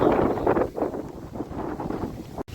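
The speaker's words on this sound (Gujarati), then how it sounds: "પવન કઈ સીમા જ નથી" Strong gusty wind during an unseasonal storm, buffeting the microphone in loud roaring surges with short lulls, no one speaking.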